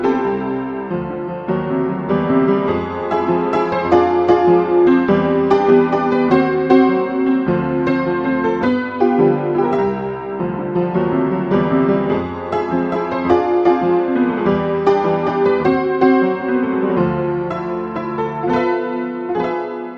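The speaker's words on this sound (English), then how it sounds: "Now we have asked our piano tuner to detune our upright piano in the style of an honky-tonk" An upright piano, detuned for a honky-tonk sound, plays a continuous run of chords and melody for about twenty seconds at a steady moderate volume, alone and without talking.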